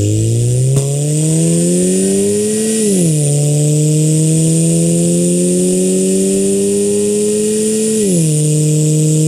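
A loud Toyota Caldina GT4 estate's 3S-GTE engine revs up steadily in rising pitch, drops sharply at a gear change, then climbs again before another shift, close and continuous.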